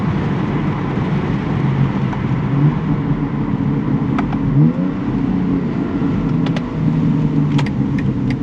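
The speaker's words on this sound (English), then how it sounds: "It sounds really nice with the stock exhaust" A 2021 BMW X3 M Competition engine with stock exhaust hums and burbles steadily from inside the cabin, a low throaty drone with a few faint clicks, no voices.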